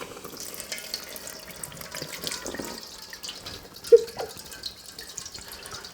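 Water drains from a bowl of freshly frozen clear ice in a home kitchen, a faint, quiet trickle with scattered drips and one sharper splash partway through.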